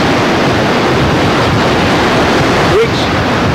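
Ocean swell breaks across a sandbar in a steady, loud wash of white water, a continuous roar with wind buffeting the microphone and no clear speech.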